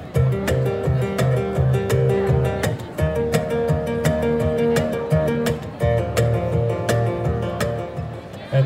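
A street performer drums a percussion version of a song for a holiday crowd outdoors. Crisp, regular hits repeat in a steady groove over a low pitched backing pattern. The playing is loud and close, with no talking.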